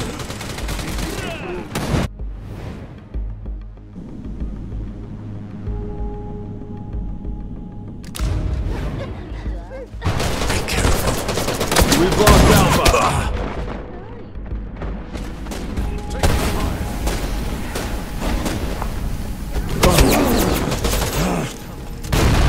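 Gunfire in the Wild Assault shooter game: loud, dense bursts of shots and booms in several long stretches, with voices calling out between and over the firing.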